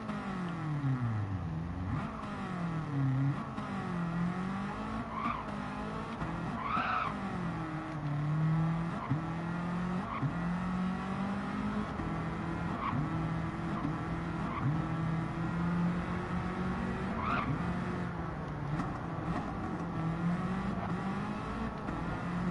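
Racing car engine in Gran Turismo 7 revs and shifts continuously with rising and falling pitch sweeps, plus brief tire squeals, steady and fairly loud throughout with no talking.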